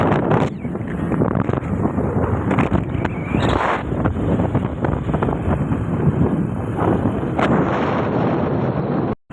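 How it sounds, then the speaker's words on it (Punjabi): Cold wind under cloudy skies roars and buffets the microphone in a continuous rushing rumble, ending abruptly. "ਹਵਾ ਚੱਲੀ ਜਾਂਦੀ ਆ ਠੰਡੀ"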